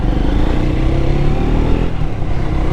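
Triumph Thruxton 400 single-cylinder motorcycle engine revving steadily and loudly up close, a dense rumbling drone throughout with slight rises in pitch and no talk.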